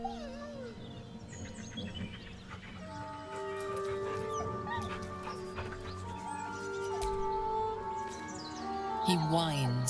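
A dog in the video game Baldur's Gate 3 whines beside a corpse, high wavering whimpers rising and falling over a layered game soundscape of tonal music and ambience, ending with a sharper yelping whine.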